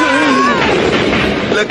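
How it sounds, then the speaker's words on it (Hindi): Firecrackers go off in an animated Doraemon cartoon scene, a loud rapid cluster of bangs and crackles following a brief voice-like tone at the start. "अरे पटाखों की आवाज"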